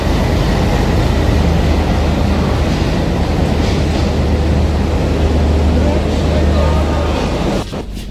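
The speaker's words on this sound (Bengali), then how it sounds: "চলে এসেছি আমাদের ট্রেন" A train pulls in at a station platform, a steady loud rumble and roar filling the scene throughout, easing slightly at the very end.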